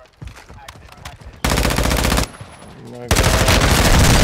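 Bursts of rapid automatic gunfire in a video game battle royale, two long loud sustained volleys separated by a short pause, with a voice speaking briefly beforehand.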